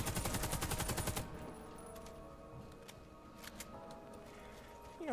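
Rapid automatic gunfire in the first-person shooter Warface, a loud dense burst for about a second, then quieter scattered game sounds and faint shots.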